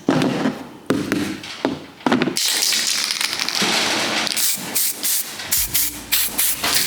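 Several bursts of hissing spray from a spray paint can, short at first and then one long sustained blast, followed by quick rattling taps, close to the microphone.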